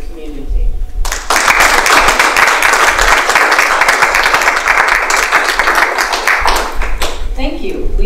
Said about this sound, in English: Please give a round of applause for all of these candidates